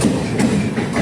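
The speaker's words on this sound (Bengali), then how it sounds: "ট্রেন ঢুকছে শিয়ালদা।" A train pulls into Sealdah station with a brief, steady rumble of wheels and carriages. The sound is fairly loud and continuous, with no voices.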